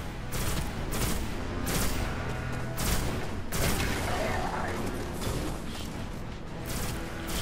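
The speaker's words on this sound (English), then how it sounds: "I'll snipe these guys" Sniper rifle fire in the Destiny video game cracks out in a rapid string of sharp, loud shots, followed by a stretch of rumbling battle noise and mechanical clatter.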